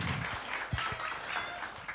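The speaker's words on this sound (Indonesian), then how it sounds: "Tepuk tangan buat Mas Nanda." A crowd at an anniversary celebration for the Swargaloka arts group applauds a poster designer, a brief even patter of many hands with a few louder individual claps and faint voices mixed in.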